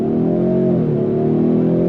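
A 2025 Ford Mustang EcoBoost with a 315-horsepower turbocharged four-cylinder and 10-speed gearbox accelerates hard in track mode, its engine droning loudly and rising steadily in pitch from inside the cabin, with no talking.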